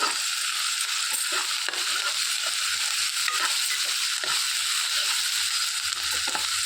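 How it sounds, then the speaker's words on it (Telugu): Green chillies, chopped onions and curry leaves fry in hot oil, a steady dense sizzle crackling evenly throughout with occasional stirring scrapes and no voices. "ఇందులోనికి ఒక రెబ్బ కరివేపాకు కూడా వేసేసుకొని వేయించేసుకోవాలండి"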